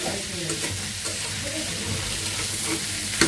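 Pangas fish pieces frying in hot oil in a home kitchen pan, a steady close sizzle with light stirring scrapes and a sharp clink near the end.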